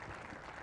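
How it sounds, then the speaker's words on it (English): Audience applause at the Globe Soccer Awards gala in Dubai, a steady dense wash of clapping at moderate loudness throughout the brief moment, no voices on top. "Big round of applause for that."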